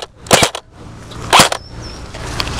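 Airsoft guns fire in a backyard airsoft game: a couple of sharp, close snapping shots in quick succession, a pause, then another loud shot, with faint outdoor ambience between.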